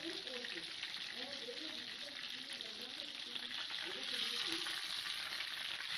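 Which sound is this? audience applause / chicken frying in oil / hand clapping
chicken frying in oil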